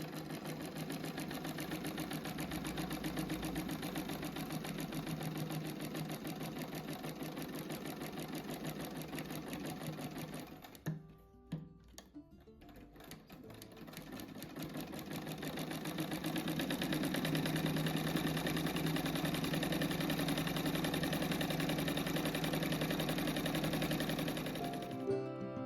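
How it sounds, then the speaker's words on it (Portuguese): A sewing machine runs steadily while stitching all the way around the edge of a fabric rug. The motor hums with a continuous rapid needle whir, stops briefly near the middle, then resumes at a slightly louder level. "Daí agora eu faço a costura em toda a volta dele."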